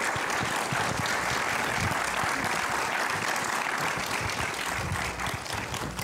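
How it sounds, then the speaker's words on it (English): Sustained audience applause at a 2013 mayoral debate in Jackson, Mississippi, a dense, steady wash of many hands clapping throughout, with no talking over it. "Let's give all the candidates a round of applause."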